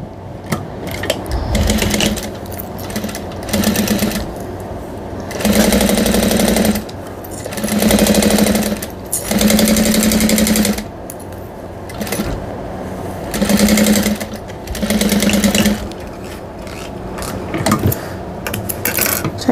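A sewing machine stitches a tote bag seam in repeated short bursts of fast mechanical whirring separated by brief pauses, loud and close with no talking.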